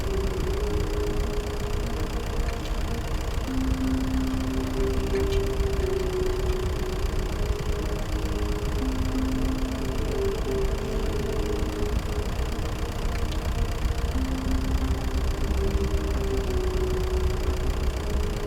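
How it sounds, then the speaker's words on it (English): Tractor engine in The Stanley Parable: a steady, moderately loud idling drone that holds an even low hum throughout with no talk. "This is a tractor. It's an enormous machine that tills the earth."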